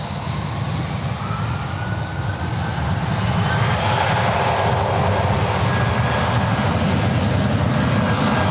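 A 14-year-old United Airbus A319 rolling down the runway at San Francisco International Airport for takeoff, its engines a loud broad roar that swells with a rising whine.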